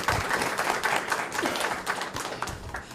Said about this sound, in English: So everybody get a round of applause for our new panelists.